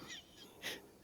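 A person breathes with heavy, raspy wheezing, two strained hissing breaths close to the microphone, the second louder, with no talk over them.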